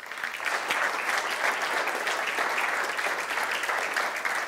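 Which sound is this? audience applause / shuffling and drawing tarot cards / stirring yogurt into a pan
audience applause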